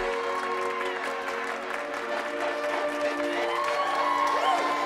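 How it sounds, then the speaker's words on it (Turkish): Steady applause from a crowd, continuous and moderately loud throughout, with a faint murmur beneath. "Eric LeBlanc'a bir alkış tutun bakayım."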